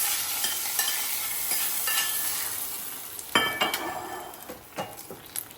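Fried raisins and cashews are stirred into a pot of rose milk payasam, giving a soft steady sizzle with a spoon clinking and scraping against the pot, louder knocks near the end, close by and without talk.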